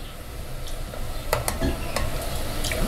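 Meat frying in a pan for a bean and meat dish, a continuous close sizzle with a few sharp utensil taps and scrapes scattered through it.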